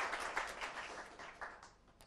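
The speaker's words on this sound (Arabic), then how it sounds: "وهلأ عندكم تشجيع كمان من الحضور" Audience applause at a national knowledge quiz competition, a steady wash of clapping from a crowd that stays even and moderately loud, then thins slightly toward the end, with no talk.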